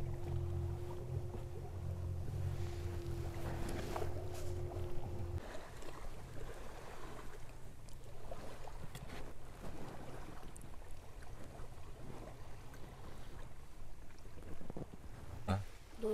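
Strong wind blows in off a lake at a riverside family tent camp, a steady rushing buffet on the microphone with a low engine-like hum during the first few seconds.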